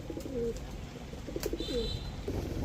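Soft pigeon coos murmur at a low level alongside faint rustling and a brief higher chirp, with a steady background hiss.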